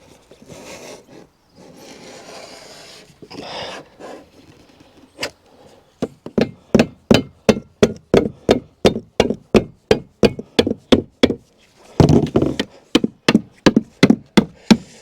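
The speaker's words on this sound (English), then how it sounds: "So with a tap of the scraper, that looks like the tool to do the job." A scraper is tapped repeatedly to knock old mastic off a motorhome surface, giving a long run of evenly spaced, sharp knocks close to the mic, preceded by softer scraping and rubbing.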